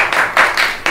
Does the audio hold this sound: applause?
yes